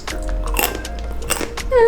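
Brazil nuts crunched between the teeth in several crisp bites close to the mic, with a short vocal tone near the end.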